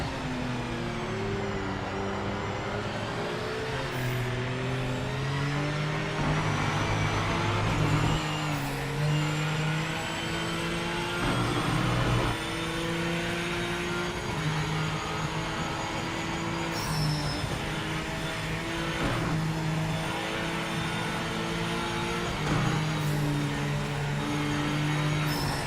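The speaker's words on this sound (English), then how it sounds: "I hear that Corvette up there too." A Chevrolet Corvette race car in the Project Motor Racing sim roars steadily through its revs, harmonics climbing and falling with gear changes and brief lifts, loud and continuous for the whole stretch.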